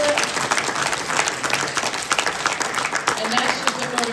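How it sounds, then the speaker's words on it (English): Audience applause at a catfish study group convention, a steady patter of many hands clapping in a hall, moderately loud and continuous with a faint murmur of voices underneath. "you deserve a big round of applause"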